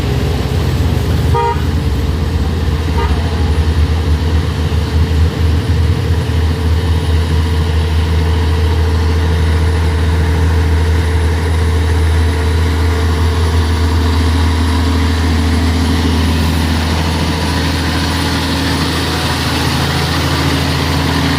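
An Isuzu truck engine labours up a steep incline, a loud, steady low drone with a sustained tonal hum running unbroken throughout, without speech.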